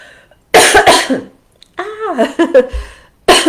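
Two harsh coughs burst out up close, followed by a voice talking, then another cough at the end.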